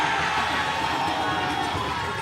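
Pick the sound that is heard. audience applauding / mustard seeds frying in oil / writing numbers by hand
audience applauding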